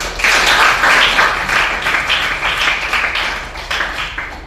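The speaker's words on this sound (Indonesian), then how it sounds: "Kita berikan tepuk tangan." Classroom audience applause, a steady dense patter of many hands clapping close by, fairly loud and filling the whole stretch with slight swells and no talk over it.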